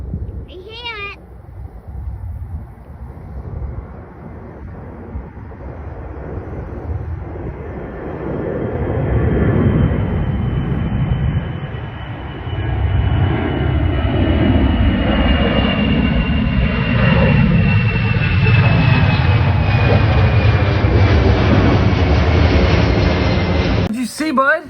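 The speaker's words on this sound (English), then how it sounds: "two big planes" Large airplanes fly overhead, their jet roar swelling from a distant rumble to a loud, sustained wash over about twenty-five seconds, with voices and meow-like cries near the start.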